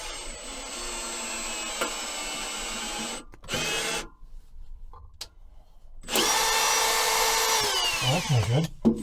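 A handheld power drill run one-handed whirs in bursts, stopping and restarting with a pitch that rises and falls as the bit bites into the workpiece, with gaps of near silence between runs.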